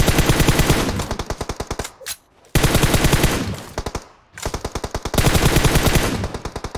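Rapid bursts of automatic gunfire in PUBG Mobile, hitting a car, in three long volleys with brief pauses between, loud and close, with a sharp metallic, echoing quality.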